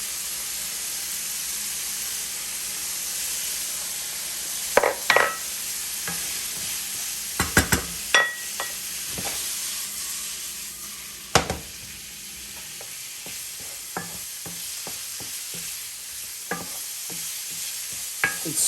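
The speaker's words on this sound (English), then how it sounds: "And stir it well to get that seasoning spread out, because you want all the shrimps to have seasoning." Seasoned shrimp sizzling in a hot pan, with a steady hiss and scattered sharp stir-and-scrape strokes that grow busier toward the end, close up and without talk.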